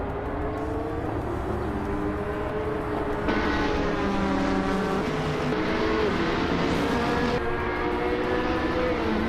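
Several race cars in a game run together, a continuous loud engine roar with rising and falling harmonic whines as they shift and pass, no voices.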